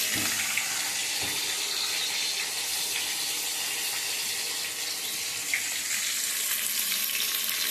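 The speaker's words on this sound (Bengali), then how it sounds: "মাছের মাথাগুলোকে আমি এখানে ভেজে নিচ্ছি" Rohu fish heads fry in a pan with a loud, steady, dense sizzle and crackle that holds unbroken throughout, close up, with no voices.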